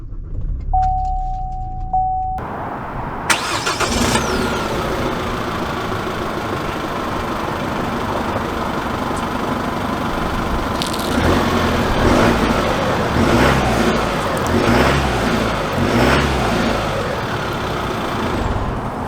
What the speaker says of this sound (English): So setting off here in the Colorado ZR2